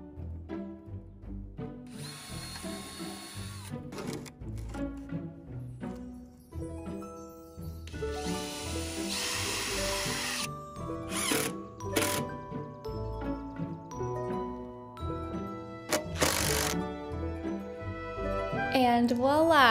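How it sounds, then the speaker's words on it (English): Two bursts of a power drill driving screws into wood cut in over steady background music, each lasting a couple of seconds. "That way I know where to drill for the screws."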